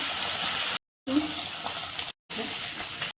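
Steady hiss of peanuts frying in hot oil in a kadhai, close by, with a brief clink of stirring, cut by two short silent gaps.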